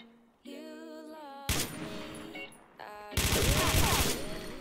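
Gunfire in the first-person shooter game XSHOT: dense, loud bursts of rapid shots in two stretches, with game music and chiming effects around them.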